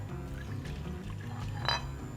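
Water poured into a bowl while cooking a Kashmiri dum aloo, a steady close liquid stream with a brief clink of the vessel near the end, no talking.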